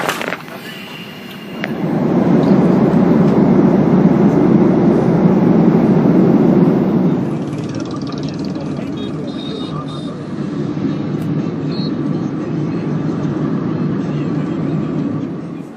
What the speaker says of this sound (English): right now I'm at the Mumbai airport waiting for my flight to take off